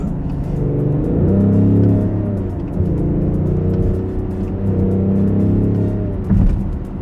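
A BMW X5 M50d diesel SUV accelerates hard in Sport mode, its engine note climbing in a rising whir before shifting and pulling again, heard loud from inside the cabin with no talking.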